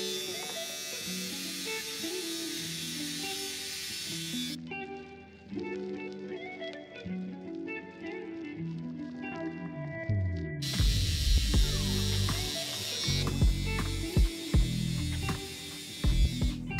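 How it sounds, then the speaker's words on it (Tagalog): A compact electric shaver used to trim eyebrows buzzes in steady close runs, cutting off briefly and starting again, with loud handling bumps near the end. "So, ginagamitin ko siya nito. It's like a shaver na."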